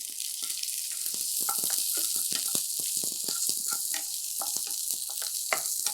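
Onion sizzling in hot oil in a pan for cabbage chutney, a loud, dense, continuous crackle with rapid popping spatters throughout, close up and alone.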